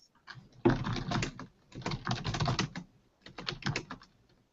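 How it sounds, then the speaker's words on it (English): Someone hammers hard on an old, clunky computer keyboard in three bursts of rapid, heavy keystrokes separated by short pauses, close and loud, with no talking. "you have these old clunking keyboards, and when Google Hangout detects that you're really hammering the keyboard"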